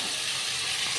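Potatoes go into a hot pan of onion, cumin seeds and tomato for a potato curry, giving a steady close hiss and sizzle that holds evenly throughout.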